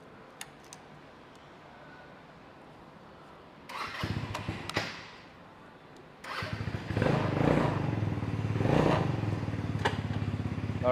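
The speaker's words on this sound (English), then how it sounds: "let me start it up and take her out" A Boss Motor Dragon 200 automatic sports motorcycle starts up after a brief crank, then settles into a loud, close, steady idle that rises and rolls on.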